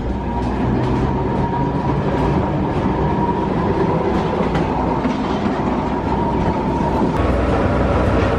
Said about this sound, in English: Stuck on this tram.